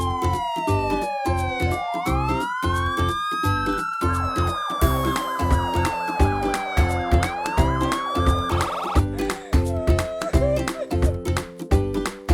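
Police car siren wails with long rising and falling sweeps over a pulsing rhythmic music bed, loud and continuous.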